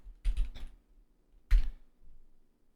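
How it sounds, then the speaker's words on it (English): One-handed typing on a computer keyboard during a Minecraft session: a short burst of quick clicks, a pause, then one more sharp clack, close and quiet, with no talking. "I'm typing one hand."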